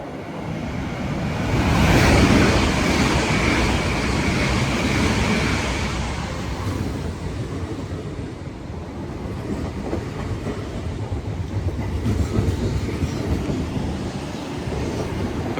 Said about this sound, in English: passing through now is an LNER Azuma from Bounds Green TNRSMD to